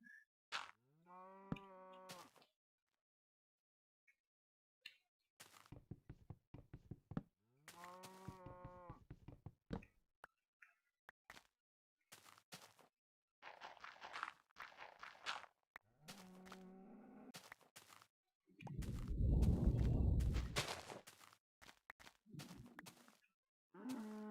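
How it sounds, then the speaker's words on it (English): A cow in the Minecraft video game moos several times, long drawn-out lows spaced across the stretch, interspersed with other quiet game sounds and one louder rumbling burst. "We have a noisy cow right over here."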